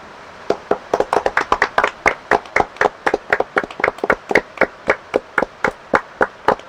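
A run of roughly two dozen sharp hand claps, fast and irregular at first, then settling into a steady, evenly spaced rhythm, loud and close with no talking.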